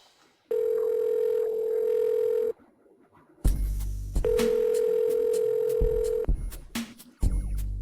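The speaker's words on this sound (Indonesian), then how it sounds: "Aku akan telepon Feng Lin Group sekarang juga" A telephone line on an outgoing call gives a steady dial tone for about two seconds, falls quiet, then returns with clicks and a longer steady tone between short breaks, loud and close.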